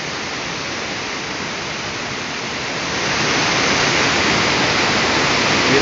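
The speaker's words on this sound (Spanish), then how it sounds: "Ahí está la corrientada de agua que hay aquí, mira." Rushing water of the waterfall at San Jerónimo Tulijá, a dense, steady roar that fills the whole clip and swells slightly louder partway through, with no voices.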